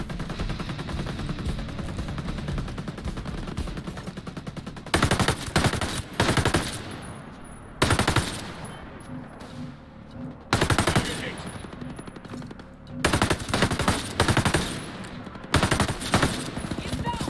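In Ghost Recon Breakpoint, sustained machine-gun fire and bursts of gunfire rattle loudly and almost continuously, with denser volleys coming and going in waves throughout.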